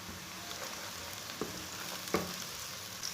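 Steady crackling sizzle of onions and garlic browning in a pan, with a few soft clinks of a utensil stirring, no voices.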